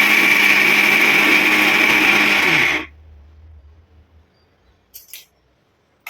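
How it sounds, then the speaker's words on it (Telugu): A kitchen mixer grinder whirs loudly and steadily as it grinds grated coconut for a coconut dish, then cuts off abruptly, leaving near silence with a couple of faint clinks. "ఇదైతే మిక్సీ పట్టేసుకుందాం మనం ఒకసారి."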